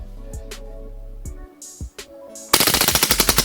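A Cybergun KWC Desert Eagle L6 CO2 airsoft pistol, first a few scattered clicks and mechanical knocks, then a sharp burst of rapid full-auto shots cracking out in an even, loud, close rhythm.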